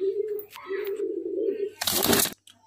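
Pigeons cooing close by, a pair of low, soft, rolling calls in succession, followed by a brief burst of flapping or rustle.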